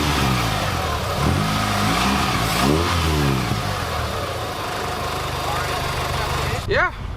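A 2000 Mitsubishi Eclipse with the muffler out, fitted with its stock intake, revs loudly and close up, its engine note rising and falling through two throttle blips before settling into a rough, steady idle.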